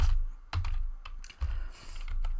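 Typing on a computer keyboard during data entry into an Excel spreadsheet, a quick run of close, clicky keystrokes in uneven bursts with short pauses between groups, heard alone without any talking.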